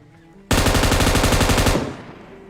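Automatic weapon gunfire in the PUBG Mobile battle royale game, a loud rapid burst of shots lasting over a second before trailing off.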